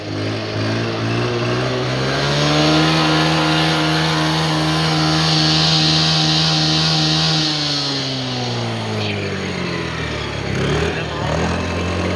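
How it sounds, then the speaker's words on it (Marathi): A nearby car engine runs with a loud, steady hum that drops in pitch partway through, heard over a constant wash of heavy monsoon rain in Vasai-Virar. "तर काय अजून एक गाडी चालू झाली आहे."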